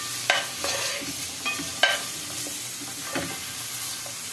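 Pieces of sheep offal sizzle in a pan as the fat melts and fries, a steady crackling hiss with sharper pops and occasional stirring clatters, close up and without speech.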